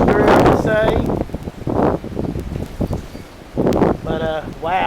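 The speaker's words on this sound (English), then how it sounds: "The wind's just shifted out of the northwest." Strong gusting wind as a cold front pushes through a rainstorm roars and buffets the microphone in loud surges, with a person speaking between and over the gusts.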